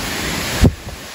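The Middle Falls waterfall at Ng Tung Chai on Tai Mo Shan gives off a steady broadband roar of rushing water, briefly interrupted by a gust of wind buffeting the microphone.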